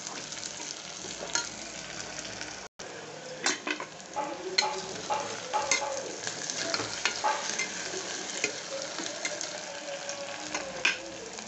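Vegetables, with green peas added, sizzle steadily in a pan while being stirred for veg pulao, a soft continuous crackle broken by scraping spoon strokes close by.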